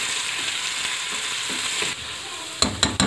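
Bright, hissing sizzle of onions frying in a pan, close and continuous, then a few sharp scrapes and clinks as they are stirred.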